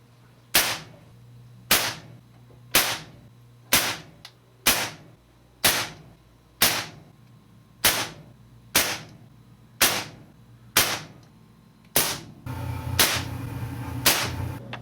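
Twelve sharp shots from a custom Crosman 2240 pellet gun fired at a target 25 feet away, evenly spaced about a second apart, each a crisp crack with a short tail, with a steady low hum beneath and a rougher noise near the end.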